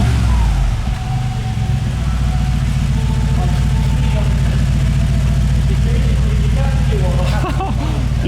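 A 2019 Mercedes G63 engine revving with its exhaust valves open, a loud, close, deep burbling rumble that swells and settles near idle, with pulsing low tones throughout.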